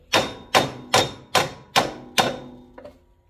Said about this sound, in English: And then hammer it over slightly as you go in there.